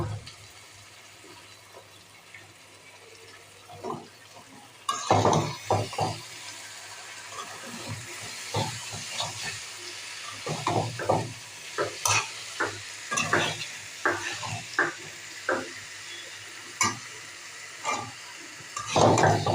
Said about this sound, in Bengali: মাংসগুলো নেড়ে চেড়ে দিয়ে নাড়ছি